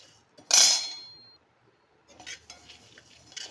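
Spices and curry leaves being dry roasted in a pan: one sharp metallic clatter up close, then a quiet pause before softer, uneven scraping and rustling of stirring, with no voices.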